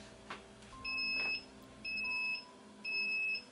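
Three evenly spaced electronic beeps from a Ricoma MT-1501 embroidery machine signalling a finished design, each a bright steady tone about half a second long, over faint background hum.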